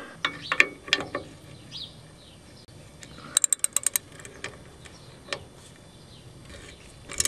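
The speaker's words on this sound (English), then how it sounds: "Then I want to break these two bolts loose." Ratchet wrench breaking loose rear brake bolts on a 1987 Ford F150 during wheel cylinder replacement, heard as scattered metallic clicks and a quick burst of ratcheting ticks in the middle, close and moderately loud amid faint workshop clatter.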